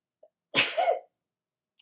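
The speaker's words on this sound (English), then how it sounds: "I'm about to sneeze in a minute." A single sharp sneeze bursts out outdoors in stirred-up wind, one loud explosive burst framed by a couple of tiny faint clicks and otherwise silence.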